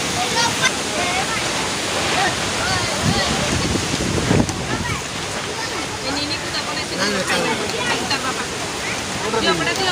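Strong wind and driving rain in a village during an Odia wedding, a loud continuous roar with gusty buffeting, while voices talk faintly underneath.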